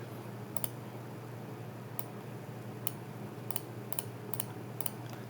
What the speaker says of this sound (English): You can hear the clicking of the mouse, right?